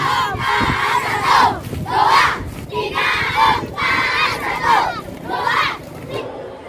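A crowd roars and cheers in repeated loud swelling bursts for a primary school team from SD Negeri 66 Banda Aceh in orange-and-white costumes, marching in an 8 km walking march competition.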